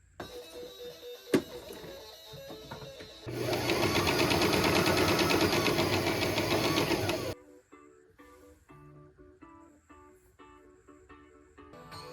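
Sewing machine stitching a length of scarf fabric: a steady, loud mechanical whir lasting about four seconds, framed by quieter handling noises and clicks before and after.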